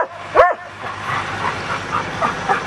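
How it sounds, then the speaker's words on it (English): A farm dog gives one sharp bark and then a run of short whimpering yips as it greets visitors arriving on a farm, close by, with low rumbling in the background. "this is the first dog to greet us"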